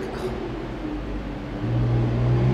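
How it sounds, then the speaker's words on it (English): Big truck passing outside a home, a steady low engine rumble that swells and grows louder toward the end as it nears, with no talk. "Here comes a big truck"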